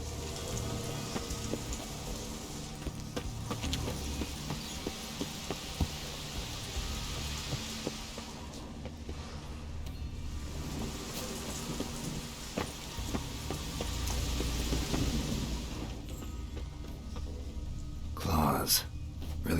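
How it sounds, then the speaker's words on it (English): Steady rain pours through a stormy spell in The Witcher 3 on Skellige, a continuous broadband hiss with a sharp crack near the end, while someone talks over it. "A storm, damn it."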